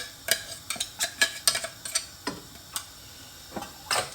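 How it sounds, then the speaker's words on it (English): Light scraping and clinking of a utensil stirring two tins of tuna in a frying pan, irregular strokes at close range, no talking. "In a frying pan, put 2 tins of tuna."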